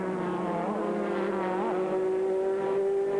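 A V8 sports racing car pulls out of the pit lane at the speed limit during a 2001 American Le Mans Series race, its engine a steady, close drone that rises and dips slightly in pitch, with no commentary.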